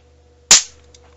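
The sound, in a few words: capacitor discharged with copper bar, loud bang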